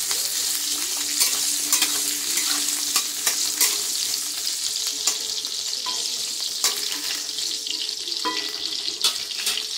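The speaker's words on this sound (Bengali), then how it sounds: "এবার আমি এই বেগুনটাকে একটু হালকা লাল লাল করে ভেজে নেব, একটু সামান্য হলুদ দিয়ে।" Eggplant pieces frying in hot oil with a little turmeric, a loud continuous sizzle broken by repeated sharp crackles and spoon scrapes throughout, with no voices.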